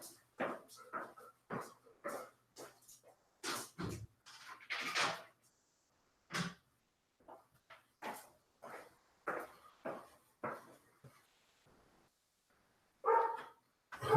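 A dog shut indoors in a room gives a string of sharp, separate barks in irregular bursts, close by and moderately loud, with short silent pauses between groups.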